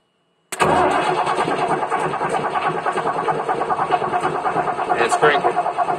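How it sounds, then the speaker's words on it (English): A CAT 3116-TA diesel engine in a 1997 Thomas MVP-ER bus with straight pipes cranks loudly after a short silence, a rapid rhythmic starter churn that continues steadily to the end. "So I'm going to touch it to the positive side of the battery, and it should crank."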